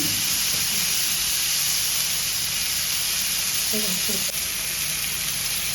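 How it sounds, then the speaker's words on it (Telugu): Fish frying in hot oil in a pan, turned by hand, giving a steady, close sizzling hiss that runs throughout with small crackles here and there. "ఫిషెస్ అయితే బాగా మంచిగా వేగుతున్నాయి ఆయిల్లో"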